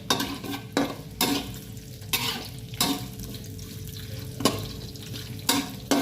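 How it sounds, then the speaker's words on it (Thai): Chili and garlic are stir-fried in hot oil in a pan for a Thai stir-fried cabbage with oyster sauce, a steady sizzle broken by regular scraping strokes of the spatula against the pan, close and with no voice. "เราจะผัดพริกกระเทียมก่อน"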